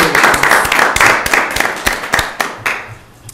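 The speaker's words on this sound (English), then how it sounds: "Does anybody want to say anything before we clap?" Attendees at a town Board of Selectmen meeting clap for a 100th birthday, a short burst of close, loud, uneven hand claps that thins out and fades after about three seconds.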